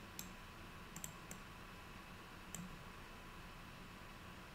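Faint computer mouse button clicks, a handful of sharp isolated taps, some paired in quick succession, over a quiet hiss of room noise.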